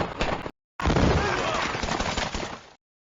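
Loud burst of rapid gunfire in a Korean radio drama's frontline battle scene, a short volley, a brief silent gap, then a longer dense stretch of shots with rumbling blasts that cuts off abruptly.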